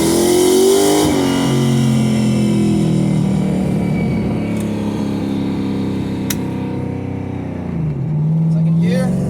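A 2003 Ford Mustang GT automatic is held at full throttle on a 2-step launch limiter, and its engine drones loud and close with shifting pitch throughout. A voice talks over it.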